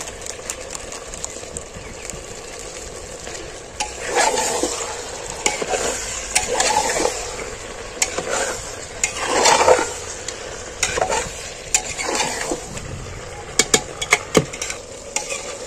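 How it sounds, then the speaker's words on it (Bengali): Mutton pieces with salt and red chili fried and stirred in a pan for dum ka mutton: a steady close sizzle broken by repeated scraping stirs of a spoon against the pan, with no one talking. "কষতে কষতে একবার করে নাড়াচাড়া করবো, কষে নেবো"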